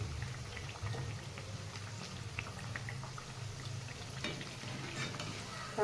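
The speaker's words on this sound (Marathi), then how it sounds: "सर्व वड्या अशाच प्रकारे तळून घ्यायच्या." Coriander vadi (kothimbir vadi) pieces fry in hot oil with a steady, dense sizzle and crackle that runs the whole time, with light spatters and no voices.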